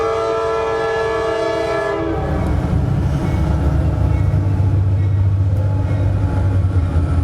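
A passing train blows its horn loudly and steadily for about two seconds, then the deep low rumble and clatter of the rail cars rolling by carries on through the rest of the clip.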